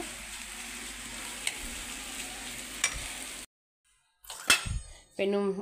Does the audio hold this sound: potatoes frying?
yes